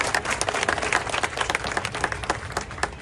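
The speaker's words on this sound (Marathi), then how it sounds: "आपण टाळ्या बाजून अभिनंदन केलं पाहिजे" A crowd applauds steadily, dense clapping filling the whole stretch with no talk over it, at a groundbreaking ceremony for local development works.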